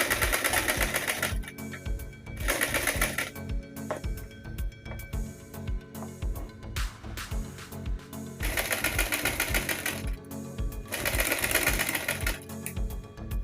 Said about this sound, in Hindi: उससे पहले मैं थोड़ी अंदर साइड यहाँ पर सिलाई लगा लेती हूँ